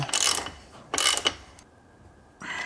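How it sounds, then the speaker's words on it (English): Metal awning bolts tightened with a spanner or shifter on a freestanding awning, giving two loud bursts of ratcheting, clicking mechanical noise with quieter scraping between them and a further burst at the end. "Just put a shifter or spanner on there."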